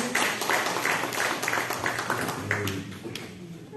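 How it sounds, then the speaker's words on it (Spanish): An audience at an education debate in Peru applauds a speaker. Scattered hand claps ring out at moderate distance and thin out toward the end, with some murmuring underneath. "Un fuerte aplauso, por favor, para el compañero Willy Burgos."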